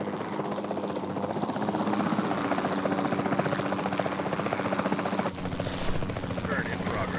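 A helicopter in Jurassic World Evolution 2 hovers close with a loud, continuous rotor thump and engine drone, joined by a voice speaking over it and a brief sharp shot near the end.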